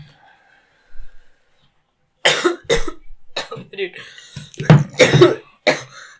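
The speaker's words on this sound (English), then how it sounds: "Listen to me cough." Several rough coughs and throat-clearing bursts come in uneven clusters, close up, with a short spoken word among them.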